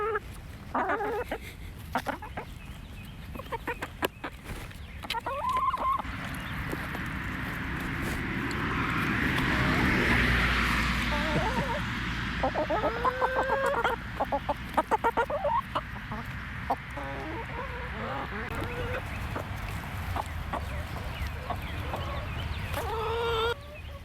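Hens cluck and murmur nearby, with scattered taps and rustling, while a low rumble swells and fades in the middle.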